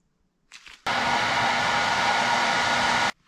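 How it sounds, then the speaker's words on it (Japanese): A hair dryer heats a rear wheel bearing area on a Honda CB750 Four motorcycle. It makes a brief starting whirr, then runs as a loud, steady, close blast of airflow for about two seconds before it cuts off abruptly. "ドライヤーで"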